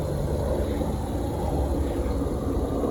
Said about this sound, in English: There's an airplane flying overhead.